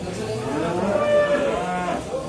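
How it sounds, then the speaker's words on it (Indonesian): A cow moos loudly in one long, low, drawn-out call at the Sukorejo livestock market in Kendal, close by with faint background noise. "Ini milik Mas Rozi, salah satu penjual sapi di Pasar Hewan Sukorejo, Kabupaten Kendal."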